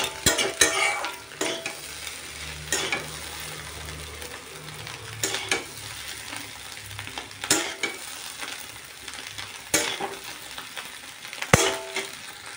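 Fish roe fries in a pan while being stirred, with a low steady sizzle under repeated sharp scrapes and clacks of a utensil against the pan at irregular intervals.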